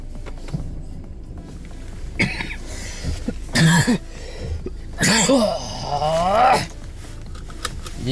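Several harsh coughs in short bursts from a person with a lingering cough during a ride, fairly close and loud, with voices talking between them.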